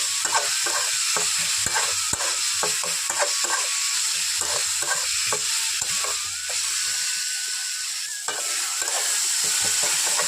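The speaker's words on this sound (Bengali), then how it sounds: "লবণটা দিয়ে খুব ভালোভাবে আমি মিশিয়ে নিচ্ছি" Spoon stirring salt into onions frying in oil in a pan, a constant loud sizzle with frequent scraping clicks of the utensil against the pan, close and steady, no speech.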